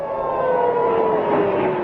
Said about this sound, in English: Air raid sirens were activated in cities across Israel, and people were told to take shelter.